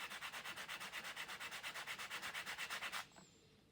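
Rapid, even back-and-forth strokes of sandpaper hand-sanding a glued paper piece, about three seconds of rhythmic rasping close by, then stopping abruptly.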